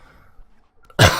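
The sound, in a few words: cough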